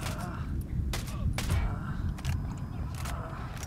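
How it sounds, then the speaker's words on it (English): Gunfire in the video game Ghost Recon Wildlands crackles in several sharp bursts and single shots spread irregularly across the moment, over a low rumbling game background. "Open fire."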